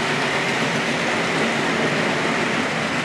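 A Hornby Triang model dock shunter locomotive hauls a long train of eight wagons and a caboose, giving a steady, loud, continuous rolling rumble with no pauses, heard close up without any voices.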